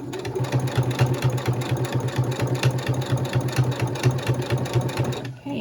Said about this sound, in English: you don't have to sew the entire section in one pass. You can sew section by section.